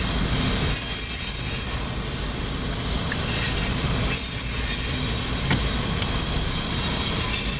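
A freight train rolls past at Cajon, California, with loud continuous rumble and high metallic wheel squeal running throughout, close and steady with brief clanks.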